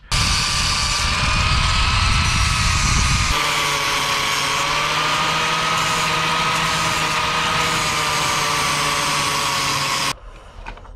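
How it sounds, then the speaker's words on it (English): A grinder cleans up brake pedal parts with a loud, continuous whining drone that shifts pitch as it bites into the metal after a few seconds, then cuts off near the end. "So to get these all cleaned up, let's get the grinder."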